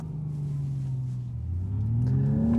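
A Hyundai Ioniq 6 N electric car accelerating hard, its synthesized engine-like drone steady and rising in pitch as speed builds, heard from inside the cabin.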